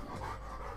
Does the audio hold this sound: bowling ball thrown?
no